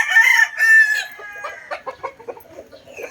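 A rooster crows loudly and close by, one long strained cry, followed by a string of short clucks and squawks from fowl, with no one talking.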